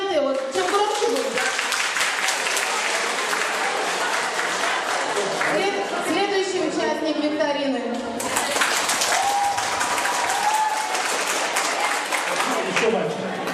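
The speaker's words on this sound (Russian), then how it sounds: "Аплодисменты." Children applaud during a road safety quiz held with traffic police, bursts of clapping and crowd noise running under and between an adult speaking into a microphone.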